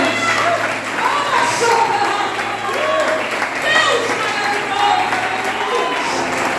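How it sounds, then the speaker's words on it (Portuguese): A church congregation at an evening worship service applauds, a dense continuous wash of clapping and crowd noise with a preacher's voice carrying over it throughout. "Aplauda o nosso Deus, meus irmãos"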